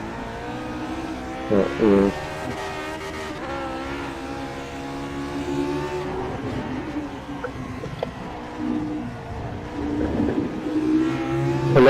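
A race car engine in a driving video game revs through short-shifted gear changes on a lap, a steady droning note that steps and climbs in pitch, with a brief spoken word near the start.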